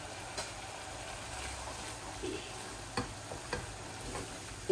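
Small pabda fish fry quietly in a pan with a soft, low sizzle, punctuated by a few scattered clicks and scrapes of stirring, no one speaking.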